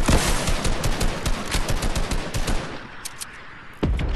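Automatic weapon fire in the video game Fortnite rattles off in loud, rapid bursts of closely spaced shots, falls quiet briefly near the end, then one more sharp report cuts in.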